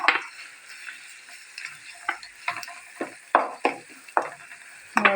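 Eggplant frying in a small amount of oil, with a soft sizzle under repeated stirring scrapes and clicks of a utensil in the pan, roughly one or two per second, no voices.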